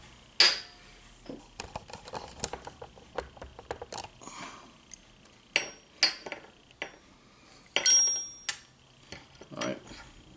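A small object is set into the pan of an RCBS 750 Range Master powder scale, giving a scatter of light metallic clicks and taps, quiet and close, with no one talking.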